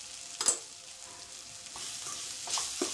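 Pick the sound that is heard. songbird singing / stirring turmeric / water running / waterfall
stirring turmeric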